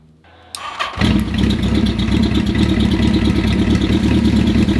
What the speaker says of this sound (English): So let's fire up the bike, see what we get.